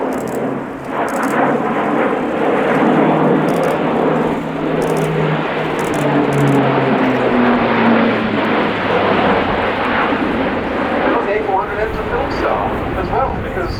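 An Airbus A400M military transport flies at the RIAT 2016 air show, its turboprop engines a loud, continuous roar with a slowly shifting drone, while a commentator talks over it.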